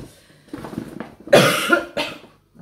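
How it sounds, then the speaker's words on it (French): Someone coughs several times, a few light coughs followed by two harsh, loud bursts close by. "Toujours en train de tousser."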